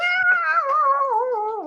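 A cat lets out one long, drawn-out yowl that wavers and slowly bends downward in pitch, close and fairly loud, with no voices over it.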